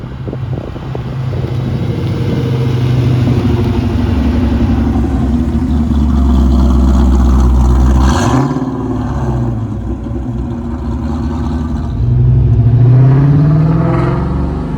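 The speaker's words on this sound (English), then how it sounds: "I bet we'll hear it coming up over this hill." A 2001 Ford Mustang Bullitt V8 approaches over a hill on a back road, its engine rising from a distant rumble to a loud, close roar with revving and shifting, then pulling away and building again, with no voices.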